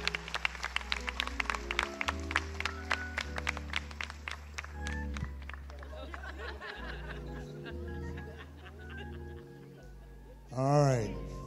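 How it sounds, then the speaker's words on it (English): Hands clap together in a church congregation during Sunday late morning worship, crisp claps in the first half over sustained organ or keyboard chords, then music carries on alone and a voice rises briefly at the end. "let's clap those hands together"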